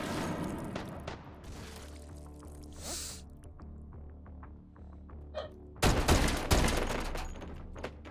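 MAC-10 submachine gun fire in the VR shooter Hot Dogs, Horseshoes & Hand Grenades, scattered sharp shots, then a dense rapid automatic burst near the end, loud and close, among other clattering game noises.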